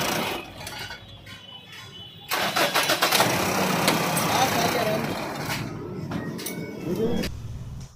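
A Bolero pickup's engine cranks and catches after a battery replacement, jumping from a quiet, noisy background into a loud, steady running rumble from about two seconds on, with voices talking nearby.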